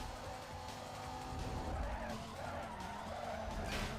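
A car skids through a turn in the racing game Need For Speed Most Wanted, a loud, continuous tire screech over a roaring engine that holds steady for the whole stretch.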